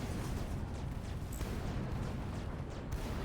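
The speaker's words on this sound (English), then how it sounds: "look at the shiny explosions" Explosions in the space combat game Fractured Space, a dense, continuous rumbling roar with soft repeated bursts layered over it, loud and sustained throughout.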